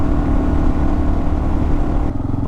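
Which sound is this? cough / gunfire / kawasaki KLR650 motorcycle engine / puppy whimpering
kawasaki KLR650 motorcycle engine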